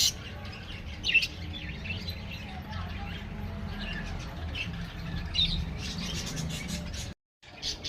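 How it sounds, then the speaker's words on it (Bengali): Outdoor birds give repeated squawks and chirps near flowering plants, several calls overlapping at moderate loudness over a constant low hum before the sound drops out briefly near the end. "দেখো পাখির আওয়াজ আসছে"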